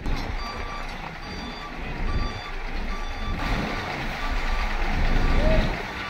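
A vehicle reverses onto a ferry at Matnog, its backup alarm beeping repeatedly over heavy diesel engine rumble and a busy port din, with a person talking in the background.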